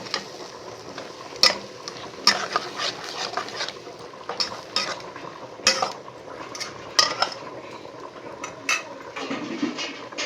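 A spoon scrapes and clinks against a pot over a wood-fired stove while masala with fennel and coriander powder is stirred, giving sharp metallic knocks at an irregular rhythm over a quiet sizzle, close and moderately loud with no talking.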